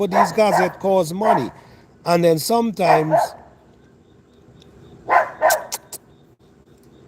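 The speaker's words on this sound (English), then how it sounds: "sorry for the dog" A dog barks several times nearby in short bursts, with someone talking over the first barks during an organic gardening Q&A.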